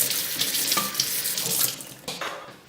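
Tap water runs steadily into a sink as a blender jar is rinsed under it, a close, continuous splashing rush with fluctuating gurgles and no talking.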